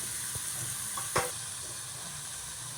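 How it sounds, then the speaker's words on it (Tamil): Chopped onion, curry leaves, green coriander and tomato sauté in a pan with a soft, steady sizzle, broken by a single utensil clink partway through. "கருவேப்பிலை, பச்சை கொத்தமல்லி, பொடியாக நறுக்கின வெங்காயம் இதையும் சேர்த்து வதக்கிடலாம்."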